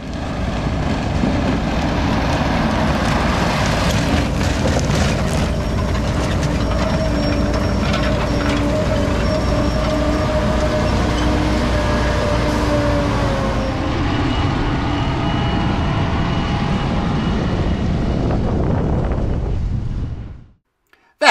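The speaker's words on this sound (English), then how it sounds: "And there goes 11 axles worth or 42 wheels worth of big rig loaded with sugar beets headed to the processing plant." An 11-axle, 42-wheel big rig loaded with sugar beets rolls past near Ruth, Michigan during the harvest, a loud sustained engine drone and tire roar that holds for about twenty seconds before cutting off.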